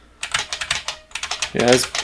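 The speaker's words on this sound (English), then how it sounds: "it's a Model F keyboard" Rapid typing on an IBM Model F capacitive buckling spring keyboard, sharp clacking keystrokes in quick bursts, close and clear, with a brief voice near the end.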